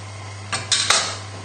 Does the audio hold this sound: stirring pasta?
yes